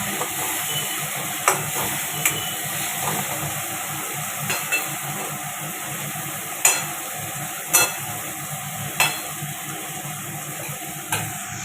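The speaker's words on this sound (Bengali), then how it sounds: "দেখো মশলা কষানো কষাচ্ছি আর একটুখানি কষানো হয়ে গেলে তারপরে আলু কষানো" Spices and tomato fry in a pan with a constant sizzle and hiss, while a spoon scrapes and clacks against the pan at irregular intervals.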